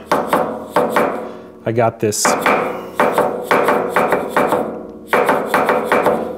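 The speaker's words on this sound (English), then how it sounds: "Insert joke here about the new dead blow hammer." Repeated close, solid knocks tapping a part down in a lathe spider, with several evenly spaced strikes, a brief pause with a short spoken remark, then more taps.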